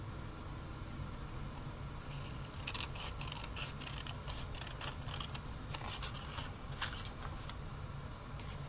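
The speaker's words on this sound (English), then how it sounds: "I think I'm going to cut that out." Scissors snip through a paper flower print for a journal, a quiet run of crisp cuts and rustles that starts slowly and quickens into repeated snips against a soft background.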